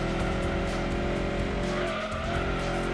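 Race car tyres spinning and skidding in Gran Turismo 2, a sustained squealing screech over a steady engine drone, loud and continuous for the whole moment.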